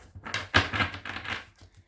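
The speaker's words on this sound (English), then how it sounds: "I'm sort of giving them a very good shuffle." Two decks of oracle cards being shuffled by hand give a quick run of papery riffles and slaps in close succession, close up, with no speech.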